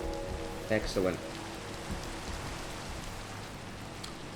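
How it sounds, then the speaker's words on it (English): Steady rain falls in the Minecraft video game, a soft, even patter that continues throughout. Near the start, someone speaks a single short word over it. "it's going to rain for the entire day if I don't move from here"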